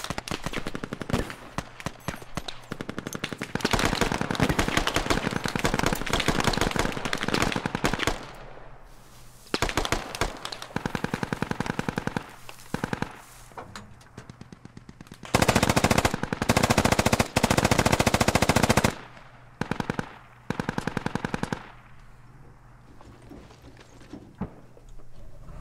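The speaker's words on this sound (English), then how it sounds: "They see you. That's who they're shooting at." Gunfire in the Squad video game crackles in long, loud bursts of rapid machine-gun fire, dense automatic volleys alternating with short pauses across the whole stretch.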